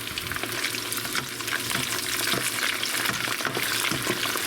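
Steady, crackling sizzle of hot dogs frying in hot oil, continuous and close, with no talking.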